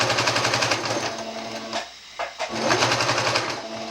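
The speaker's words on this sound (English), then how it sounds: "I'm probably sewing way too fast for something like this" A sewing machine runs fast while stitching a dress, its rapid even needle chatter pausing briefly in the middle before starting up again at the same quick pace.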